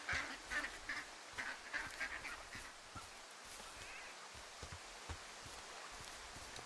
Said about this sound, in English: There's obviously ducks around here.